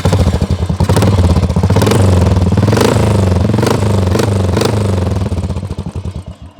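A modified Royal Enfield motorcycle with an aftermarket exhaust starts up and settles into a loud, deep, steady thumping idle, close to the microphone, with sharper revving bursts at regular intervals.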